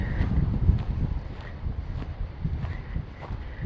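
Low, blustery wind rumbles against the microphone in uneven gusts at a lakeshore campsite on Metis Lake, with faint scuffing sounds and no speech.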